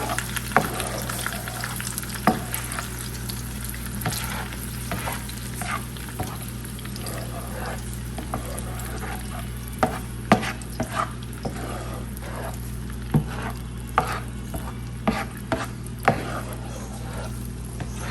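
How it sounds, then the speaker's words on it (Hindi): Tomato paste frying in oil with goat liver in a pan for Lahori tawa kaleji, a steady close sizzle throughout, broken by occasional scraping and clinking stirs, with a low background hum. "और फिर जो है हम इसको अच्छे से ऑयल में भूनेंगे"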